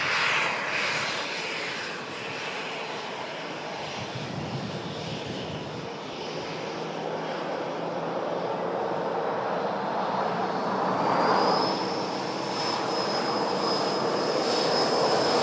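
Heavy aircraft engines at Manchester Airport give a continuous roar, and a rising jet whine joins in partway through. The sound is loud and sustained, with no speech.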